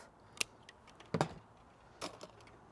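Scissors cutting lavender stems, giving three or four quiet, crisp snips spaced about a second apart against a hushed room.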